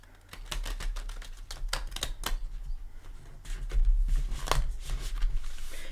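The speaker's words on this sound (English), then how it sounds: "But I like to give a shuffle or two with you here" Someone shuffles a thick deck of Light Seekers tarot cards, giving a run of quick riffling flutters and taps close up, over a low steady hum.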